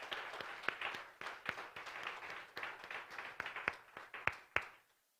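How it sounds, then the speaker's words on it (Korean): A church congregation at a summer night prayer meeting applauds, a fairly faint, sustained patter of many hands clapping with scattered louder claps, fading out at the end. "한꺼번에 한 번에 다 우리 박수로 격려해 주시기 바랍니다"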